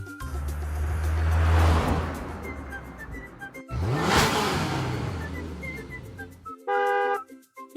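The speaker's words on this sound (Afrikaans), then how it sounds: "Dit is 'n kar." A car approaches and sweeps past in a rushing whoosh, followed by a second pass that swells and fades, ending with a short burst of tonal honking.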